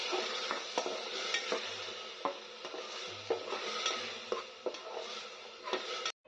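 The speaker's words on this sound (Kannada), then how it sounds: "ಇದನ್ನು ಕೂಡ ಸೇರಿಸ್ಕೊಂಡು ಚೆನ್ನಾಗಿ ಹಸಿ ವಾಸನೆ ಹೋಗೋವರೆಗೂ ನಾವು ಫ್ರೈ ಮಾಡ್ಕೋಬೇಕಾಗುತ್ತೆ." Ground masala paste and tomato fry in a pan for egg biryani, giving a steady close sizzle broken by frequent scraping stirs and light utensil knocks, with no talking.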